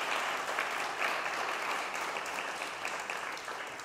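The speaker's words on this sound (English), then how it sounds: "A round of applause for Dr. Lennon" An audience applauds after a talk, a sustained wash of many hands clapping together that stays steady and slowly eases off toward the end.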